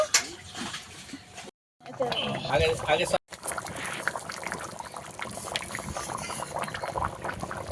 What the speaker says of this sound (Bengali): পরিমাণ মতন জল দিয়ে এবার ভালো করে ফুটিয়ে নেব